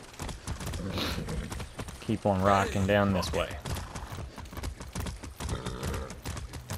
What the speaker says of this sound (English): This is the first time I've rode a horse on this game